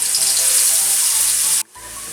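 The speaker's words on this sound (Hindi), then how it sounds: "इसमें ऑयल डाला है और बिल्कुल बारीक कटा हुआ प्याज शामिल कर लेते हैं" Finely chopped onion fries in hot oil with a loud, close, steady sizzle that drops off sharply near the end and then resumes more quietly.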